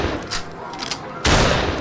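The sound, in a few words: gunshot from a gun in the VR game Pierhead Arcade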